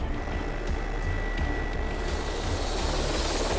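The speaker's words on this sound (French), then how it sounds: "le SAMU dépêche son hélicoptère sur place" A medical emergency rescue helicopter flies over an accident scene, its rotor and engine making a steady, loud, continuous drone throughout with no speech.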